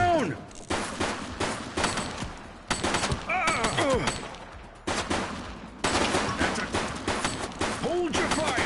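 Police shootout gunfire in The Precinct video game: dense rapid volleys of close, loud shots in repeated bursts, with voices calling out between them.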